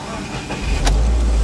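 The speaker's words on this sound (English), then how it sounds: "let's go ahead and start the car" Subaru WRX engine cranking briefly and catching, then settling into a low, steady idle rumble, heard close from inside the car with no talking.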